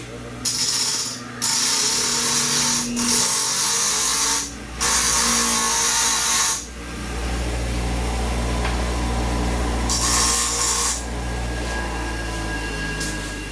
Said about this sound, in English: We'll just grind the ends off.